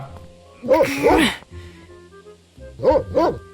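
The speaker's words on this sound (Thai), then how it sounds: "ทำไมหมามันเห่าอ่ะ" Dog barking in the video game Open Country, two pairs of sharp close barks about two seconds apart over a low ambient hum.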